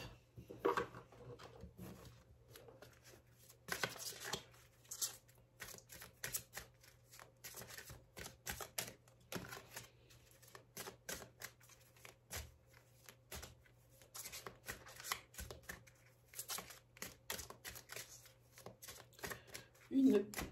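A deck of angel oracle cards is shuffled by hand, soft intermittent riffling and flicking that comes and goes in short bursts, quiet and close, with a faint voice now and then.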